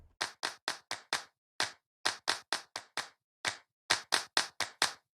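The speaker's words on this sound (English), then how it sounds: "You can record that, copy that in, and then you've got yourself a clap loop." Looped clap sample in Ableton Live with an LFO applied, a steady run of sharp, close, dry hand claps in a syncopated pattern, each hit crisp and evenly loud with brief silences between.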